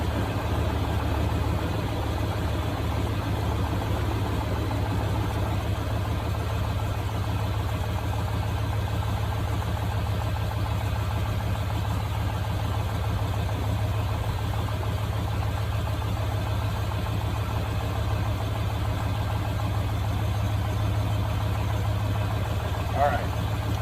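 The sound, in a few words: car engine idling from a cold start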